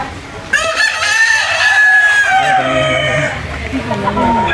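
A loud rooster crows close by on a mountain in Carmen, Cebu, a long drawn-out call followed by clucking, with faint background noise.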